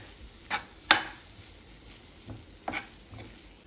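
Rice in a pan is stirred for kimchi fried rice under a soft background hiss, with a few sharp scrapes and clinks of the utensil against the pan, sparse and close.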